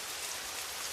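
Steady rainfall patters continuously on a surface, an even, dense hiss of drops with no voices or other sounds.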